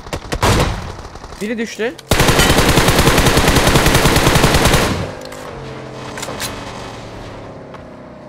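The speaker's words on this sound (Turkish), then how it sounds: "Aa, ben onu vurdum, o beni vurdu" Automatic gunfire in PUBG Mobile rattles in loud rapid bursts, first short volleys then a long sustained stream before fading into engine hum, with a voice speaking briefly over it.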